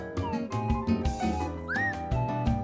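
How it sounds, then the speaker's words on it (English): Whistled Spanish in the Silbo Gomero tradition of La Gomera in the Canary Islands: a run of sharp, gliding whistled syllables, loud and close, over a steady background of tonal sound. "a whistled version of Spanish used by inhabitants of La Gomera, one of Spain's Canary Islands"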